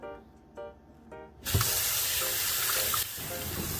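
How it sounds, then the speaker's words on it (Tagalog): Beef neck bones rinsed under a running kitchen tap: a few faint knocks, then from about 1.5 seconds a loud, steady gush of water splashing into a sink, continuing to the end with no talking. "Lilinisin at huhugasan muna natin ito sa running water."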